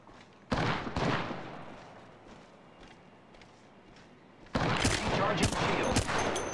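Bursts of gunfire strike the player's ship in a space combat video game, rapid crackling volleys at the start and again near the end, with quieter rumbling between.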